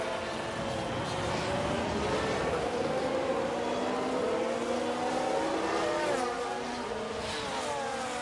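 Ferrari Formula 1 race cars in F1 Manager 22 run side by side through a chicane in Montreal, with high-pitched engines whining and shifting continuously throughout at steady loudness.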